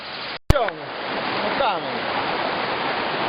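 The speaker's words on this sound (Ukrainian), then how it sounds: "ми зараз спустилися до річки. Це притока прута." A river, a tributary of the Prut, rushes through a rocky canyon in the Yamna area, a steady loud broadband wash of flowing water with a voice speaking briefly over it early on.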